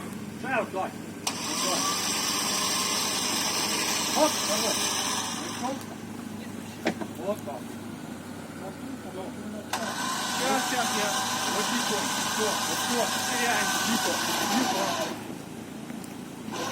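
A Jeep Cherokee engine runs and revs in a ravine while it winches a stuck vehicle, rising and falling in loud surges as voices talk nearby.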